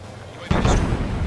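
A missile blast destroys a UAV in the Ace Combat 7: Skies Unknown flight game, a sudden loud booming burst that rumbles on after a quieter lead-in.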